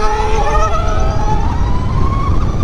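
A high electric whine climbs steadily in pitch over road and wind rumble, the sound of a Harley-Davidson LiveWire One electric motorcycle accelerating hard.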